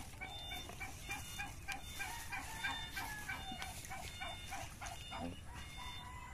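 Chickens cluck and crow repeatedly at moderate distance in a poultry pen at feeding time, with a busy outdoor murmur underneath.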